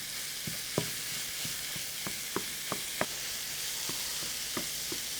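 Ground beef and onions frying for empanada filling, a steady sizzle under repeated sharp taps and scrapes as a utensil breaks the meat into crumbles.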